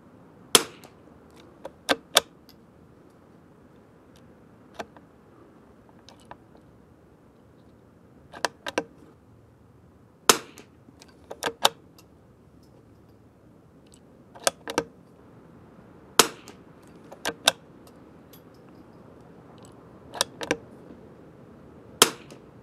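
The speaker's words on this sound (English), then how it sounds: "go with our second 5-round group from the Kimber 82G Federal Gold Medal Ultra Match UM22." A Kimber 82G .22 rifle fires Federal Gold Medal Ultra Match UM22 ammunition outdoors at a range, producing sharp, fairly soft cracks spaced several seconds apart, each with a quick echo, over a faint breezy background.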